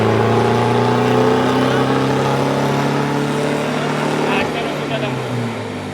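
A Renault Megane 2 with a 1.9 diesel engine runs steadily, a loud droning hum with low harmonics that sags slightly in the last seconds, and a voice talks over it.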